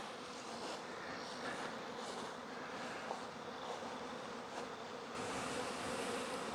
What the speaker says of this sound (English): It's nice to be out working the bees again.